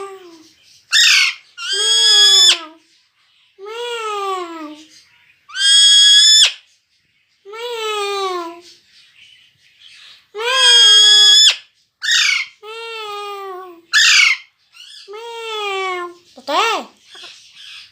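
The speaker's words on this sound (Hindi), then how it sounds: "तोते मिट्टू मिट्टू मिट्टू" An Indian ringneck parrot calls in loud, harsh squawks and screechy chirps, repeated in irregular bursts close by, with quiet pauses between.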